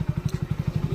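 A motorcycle engine close by in a village, pulsing in a quick, even thumping rhythm of about ten beats per second as it sets off, loud and dry with no voices.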